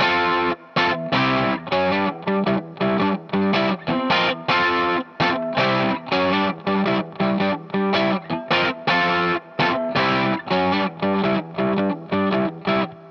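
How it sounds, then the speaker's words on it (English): Distorted electric guitar chugs through a straight blues rhythm pattern with palm muting, with steady short choppy strokes and brief gaps, loud and close with no voices. "do straight blues rhythm pattern, just the palm muted thing"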